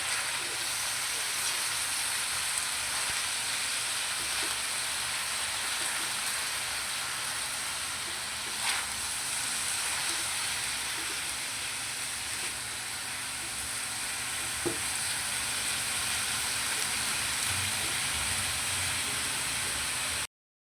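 Pork and cabbage stir-frying in a pan, a steady close hiss and sizzle running throughout with a couple of faint clicks, no talk.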